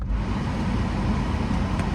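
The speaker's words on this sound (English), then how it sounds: "put my air conditioner on whenever I film, because if I do, it sounds like this." A steady, dense low rumble with a broadband hiss runs unbroken throughout, like an appliance motor droning close by.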